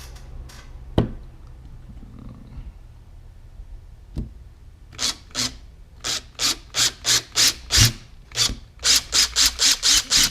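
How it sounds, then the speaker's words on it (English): A drill bores through a differential part from an Arrma Granite 4x4 RC truck, the part held in pliers. After a few isolated clicks, a run of short, evenly spaced rasping bursts builds up close and fairly loud. "I'm going to drill through that as straight as possible."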